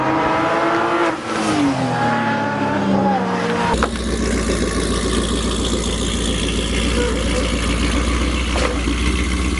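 Race cars at Waterford Raceway: a high, buzzing engine drone swells with revving and acceleration, cars pass close by, and the loud motor noise continues without a break.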